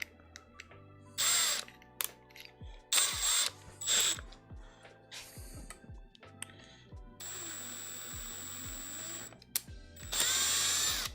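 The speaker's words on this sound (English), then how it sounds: "So I didn't drill all the way through." A power drill whirs in several short bursts drilling a 3D-printed part, separated by clicks and tool handling, with a longer steady run near the end.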